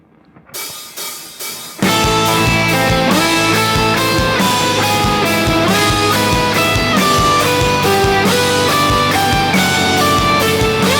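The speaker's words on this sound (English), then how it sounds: "Now let's hear it with the backing track." Electric guitar riffs over a full backing track with drums and bass, starting after a short quiet intro and then playing steadily and loud.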